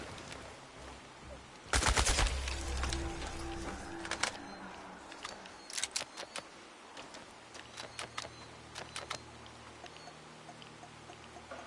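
Gunfire in the Chernobylite video game: a loud burst of shots opens, then scattered sharp single cracks and short volleys follow at irregular intervals over a quiet background.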